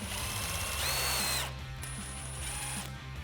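A ratchet turning a 19mm socket with an extension to wind up the hoist cable on a Lange Hoist-A-Cart for a Jeep Wrangler JL, giving a steady close clicking and whirring with a brief squeal partway through.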